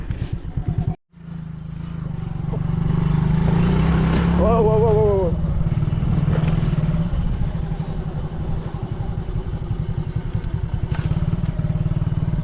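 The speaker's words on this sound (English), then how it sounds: "Okay, guys, back on the motorbike." A motorbike carries riders along a rural route to a waterfall in the Philippines, its engine droning loud and steady through most of the ride after a brief cut at the start, with a short exclamation from a rider over it.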